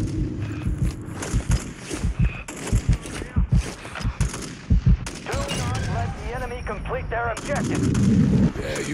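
Call of Duty Warzone Plunder match: repeated sharp gunshots crack in bursts and volleys, with distant artillery-like booms and radio chatter voices mixed in over a rumbling battlefield backdrop.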